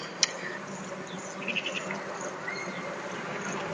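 Worker honey bees buzz inside a beehive as a soft, steady drone, with a few brief higher flickers.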